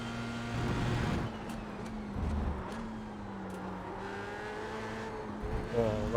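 F3 race car engine lapping the Red Bull Ring in a racing game, a steady droning engine note that rises and shifts through gears, with tyre noise and a brief rev near the end, no talk.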